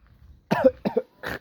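Three short, harsh coughs from smoke of a wet wood-fired stove, in quick succession, close and fairly loud, with brief pauses between them.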